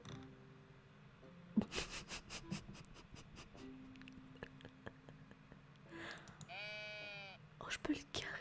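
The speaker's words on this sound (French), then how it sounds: "J'adore, c'est un petit mouton." A small sheep bleats in the Tiny Glade video game, one short wavering bleat near the end amid soft clicks and rustles, with quiet whispered speech across the clip.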